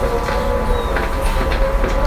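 First playback of a record cut on a 3D printed record lathe: a noisy, steady hiss and rumble with a faint sustained tone and crackle, rough and lo-fi, with no voices.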